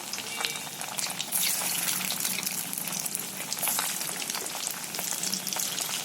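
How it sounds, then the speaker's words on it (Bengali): Bhetki fish koftas frying in hot oil, giving a steady, dense sizzle and crackle that runs evenly throughout at moderate loudness, with no voices. "এবার আমি এক এক করে সব কোপ্তাগুলোকে ছেড়ে দেব"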